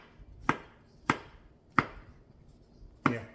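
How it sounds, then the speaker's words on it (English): Mushrooms are sliced with a knife on a cutting board, four sharp, evenly spaced knocks in a slow rhythm, close and clear with quiet between them. "And just slice them."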